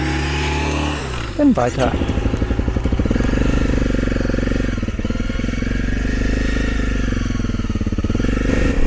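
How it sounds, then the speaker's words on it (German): An engine rumbles and putters close by as a motorcycle approaches and passes on the Peer Gynt road in Norway, heavy wind noise underneath and someone briefly speaking. "da kommt noch einer mit dem Motorrad"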